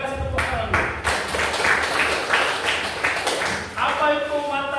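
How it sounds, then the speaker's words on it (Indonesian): Pupils in a classroom clap their hands together in a burst of applause lasting a few seconds, with voices speaking before and after it. "Kita kasih tepuk tangan dulu."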